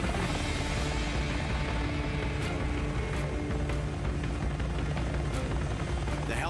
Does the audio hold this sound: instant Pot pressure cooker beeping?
no